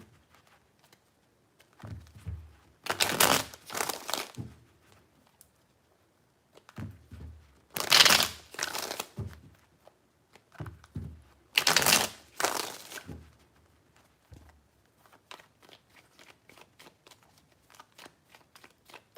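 Tarot cards are shuffled in three separate bursts, each a loud riffling flurry lasting about two seconds, with quiet gaps between and faint lighter card handling trailing off at the end.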